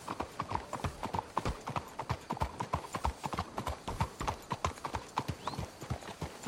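Rapid clip-clop of horse hooves trotting at a steady, rhythmic pace in Red Dead Redemption 2, close and clear, with occasional faint snorts and no talking.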